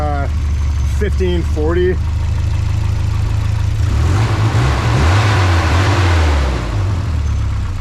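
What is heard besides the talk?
Volvo 740 engine starting and idling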